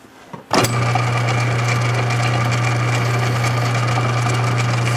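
A mini lathe with a carbide-tipped tool takes a heavier cut, starting abruptly after a brief quiet moment and then holding a steady, close, loud motor hum with a strong low drone and a constant higher whine.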